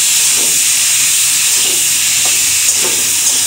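Bean seeds dropped into a hot pan give a steady, close sizzle and hiss that holds at an even level, with a few faint soft knocks.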